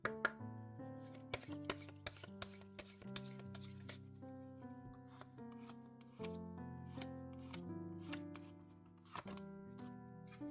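A deck of oracle cards is shuffled and drawn in a quiet room, giving soft rapid riffling and tapping clicks in irregular bursts under a gentle background melody, with no voice heard.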